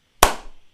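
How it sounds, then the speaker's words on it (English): A single sharp hand clap, loud and close, struck once to sync a recording for a finance podcast, its ring decaying quickly into a quiet room. "I'm going to let you do the clap."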